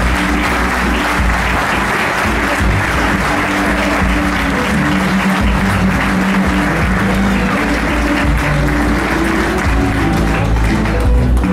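Loud, dense applause fills a hall during a festival coronation ceremony in El Picazo, held steady throughout as a full crowd claps together without pause.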